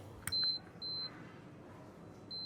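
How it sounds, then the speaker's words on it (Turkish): A Kraft Prince Fix i-Size child car seat's unbuckled alarm: a thin electronic beep in short repeated pulses, a few separate tones spaced apart over a quiet background. "Araç emniyet kemeri alarmı gibi alarm veriyor."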